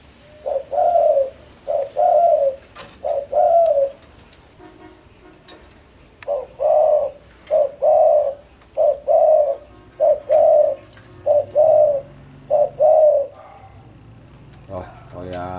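A spotted dove coos in a steady repeating rhythm, short rounded phrases spaced about a second apart, close and clear over a quiet background.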